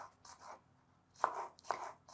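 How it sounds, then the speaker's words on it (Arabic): A knife chops an onion on a cutting board in a few quiet bursts of scraping, crisp strokes, close and soft, with pauses between. "نفرم بهاي الطريقة البصل"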